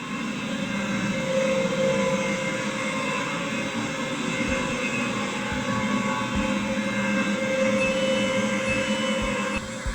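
A train in a Roblox British railway game rolls into a station with a steady, loud rumbling drone and faint wheel tones, continuous for the whole stretch, with no voices.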